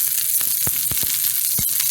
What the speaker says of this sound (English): I'm just gonna brown them, and I'm using like a little spatula to turn them every so often.